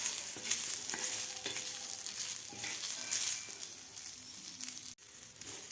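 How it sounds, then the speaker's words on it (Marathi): Onion roasts on a tava griddle until lightly golden, giving a steady close sizzle with repeated scraping and stirring strokes and one sharp clack near the end. "आता याच तव्यामध्ये आपल्याला कांदासुद्धा भाजायचा आहे."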